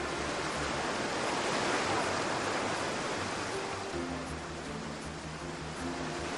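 The Sella river at the foot of the western massif of the Picos de Europa rushes steadily, a dense, continuous broadband roar of flowing water heard alone without voices.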